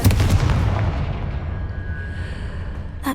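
Confringo fire spell blasting in Hogwarts Legacy, a loud booming explosion at the start that rumbles and decays over about three seconds, ending with a short sharp crack.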